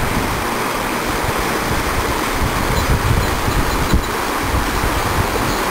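Deschutes River in Central Oregon rushing past at close range, a dense, even wash of flowing water that holds steady for several seconds with no voices over it.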